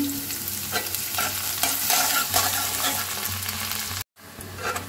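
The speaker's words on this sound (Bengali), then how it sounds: "আমি পেঁয়াজ রসুনগুলো ভালো মতো ভেজে নিচ্ছি।" Onions and garlic with dried chillies fry in hot oil in a pan, a steady close sizzle broken by repeated scraping strokes of a stirring spoon, with a brief silent gap near the end.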